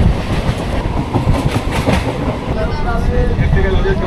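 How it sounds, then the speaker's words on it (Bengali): A local commuter train runs along the rails near Joynagar Majilpur, a loud continuous rumble with rhythmic clacking of wheels over track joints and a few squealing tones near the end. "আমাদের ট্রেনও ঢুকে গেল জয়নগর মজিলপুরে"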